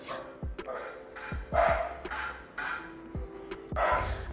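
A female dog barks repeatedly in uneven bursts nearby, several sharp barks spread across the moment, with a moderate room sound and no voices over it.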